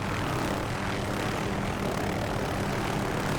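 An OH-6A helicopter in the DCS video game gives off a constant, loud rotor and turbine drone, a dense steady whir that never changes, with no voices over it.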